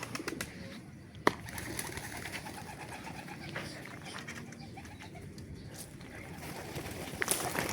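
Posek pigeons coo softly amid a busy outdoor bed of fluttering and rustling, with a sharp flap or clack near the start and wing noise toward the end.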